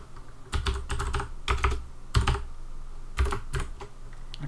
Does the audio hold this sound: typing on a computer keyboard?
yes